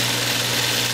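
A close sewing machine runs continuously at a steady whirring pace while top stitching a shirt collar, without a break for the whole short moment.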